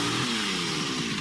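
A chainsaw sound effect gives a loud, continuous engine snarl with a wavering whine, heard alone with no talk over it.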